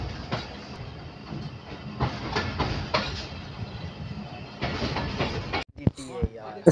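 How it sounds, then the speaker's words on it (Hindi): A Thal Express passenger train pulls away from a station and rolls along the rails with a steady rumbling clatter, and a voice briefly breaks in near the end. "गाड़ी दोबारा चल पड़ती है।"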